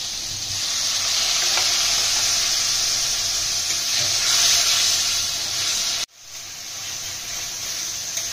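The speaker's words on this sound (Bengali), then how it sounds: "মশলাটা ভালোভাবে কষিয়ে নেব। অল্প একটু জল দিয়ে দেবো।" Spice paste with turmeric and tomato frying in a pan for a prawn curry, a loud continuous sizzle and hiss that briefly cuts out near the end, then resumes softer as a little water goes in.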